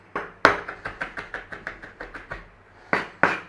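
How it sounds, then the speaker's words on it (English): Garlic minced with a kitchen knife on a board, a quick run of about fourteen sharp, evenly spaced chops, close and crisp with brief pauses, no voices. "we're just going to give the garlic a mincing"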